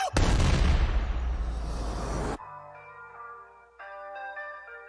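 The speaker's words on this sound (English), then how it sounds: "Right before the explosion happens." A loud, booming explosion from a music video scene with a helicopter circling, roaring for about two seconds before cutting abruptly to quieter musical tones.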